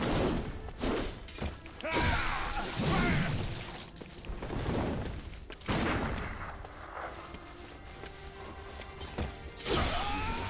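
A video game delivers bursts of gunfire with thuds and whooshes, loud and busy, rising and falling in clusters over about ten seconds.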